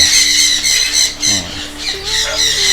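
Piercing, raspy squawks from several sun conure parrots, loud and close, overlapping in harsh repeated bursts with a few shorter chirps mixed in.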